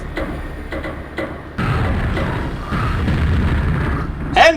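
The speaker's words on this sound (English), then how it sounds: "Oh god, the bombs are gonna tick off!" Bombs exploding in a capture-the-flag video game, a series of deep booming blasts that swell into a sustained rumbling roar, loud and close, with a sharp burst at the end.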